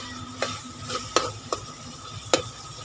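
Masala with tomatoes cooks on low heat in a pan, a quiet bubbling sizzle underneath four or five sharp, close scrapes of a spoon against the metal, with no voices.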